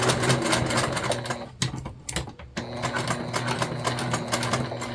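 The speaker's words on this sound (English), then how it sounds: "we are just going to go right ahead and stitch this together about 1/8 of an inch away from the edge" A sewing machine stitches zipper tape onto a crossbody bag pocket piece, giving a rapid, close mechanical chatter that stops briefly and then resumes at a steady pace.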